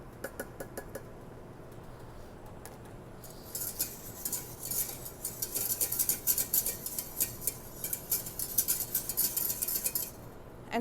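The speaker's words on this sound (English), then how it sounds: "I want to mix in my sugar and my agar powder. So you just want to use a whisk." A whisk scraping and clinking against a pot while stirring sugar and agar powder into orange juice, a rapid, steady metallic rattle that starts faint and grows busier and louder, close up.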